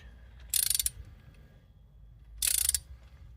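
A torque wrench ratchets in two short bursts of rapid clicking while tightening the spark plugs on an Audi A1, each burst lasting under half a second against a quiet background.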